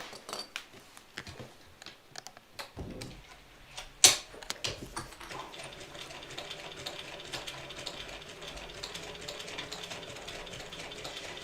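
A sewing machine stitches a bag lining, starting with a few scattered taps and clicks, then settling into a steady, fast mechanical whir with rapid ticking from about midway on.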